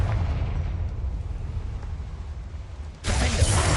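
A Confringo spell explosion in the video game Hogwarts Legacy: a dense, rumbling low roar that sustains, then a fresh sharp burst of loud noise near the end.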